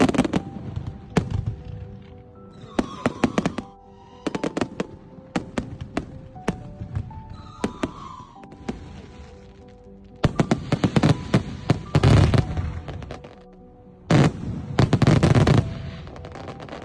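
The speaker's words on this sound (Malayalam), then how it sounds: "അവിടെ ഞങ്ങൾ കുറച്ച് ടൈം തന്നപ്പോഴത്തേനും ഫയർ വർക്ക് സ്റ്റാർട്ട് ചെയ്തു കേട്ടോ." UAE National Day fireworks set off over a park in Umm al Quwain, with loud booming bursts and crackling volleys coming in irregular clusters, mixed with a distant crowd murmur.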